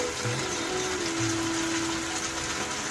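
Water pours steadily into a pan holding cauliflower curry ingredients, a continuous close gushing stream with a rising filling tone across its brief length, no talk over it.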